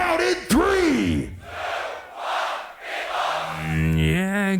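A live crowd at a Tokyo beatbox battle (GBB25) shouts a loud countdown together in a few swelling bursts of yelling, with a single voice calling out near the end.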